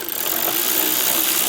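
A 7mm socket wrench ratchets steadily in a continuous, close, loud buzzing whir while removing a rear fascia screw on a 2024 GMC Acadia.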